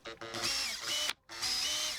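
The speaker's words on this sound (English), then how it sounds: "I just drilled a hole through it, so let's get the hardware in." A power drill bores a hole through the lip of a handmade West Coast redwood crankbait, the bit whining steadily in two close bursts split by a brief pause, with no talk.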